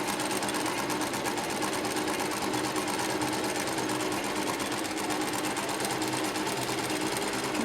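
A sewing machine stitches a folded cloth seam in a straight line, a steady rapid mechanical chatter that runs unbroken at close range.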